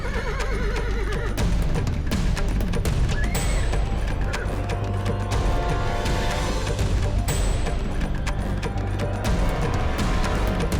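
A horse neighs amid a dense, loud dramatic soundtrack of music and crashing effects, the whinny mixed into the constant busy score of a Hindi TV drama.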